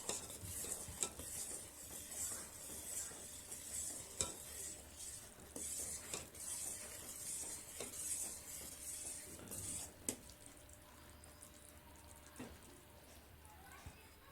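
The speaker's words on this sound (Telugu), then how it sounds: "ఇలా కలుపుతూ ఉండాలండి పాకం వచ్చే వరకు" Sugar syrup for ghee ariselu being stirred in a pot, a steady scraping swirl with soft clinks of the spoon against the metal, continuing throughout at close range.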